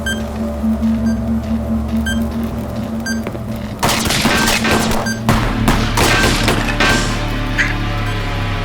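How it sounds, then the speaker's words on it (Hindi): A rapid burst of sharp gunshots cracks out, loud and close, several in quick succession over a steady background hum, in a TV crime drama. "कहां से गोली चला रहा है?"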